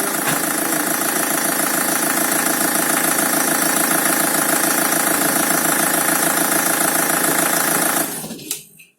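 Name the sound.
car engine idling after replacing engine and timing chains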